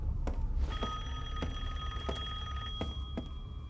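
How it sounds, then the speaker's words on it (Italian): A telephone rings in the horror game Resident Evil Village, giving a steady electronic bell tone with repeated rhythmic pulses over a low rumbling background. "Ma suona un telefono."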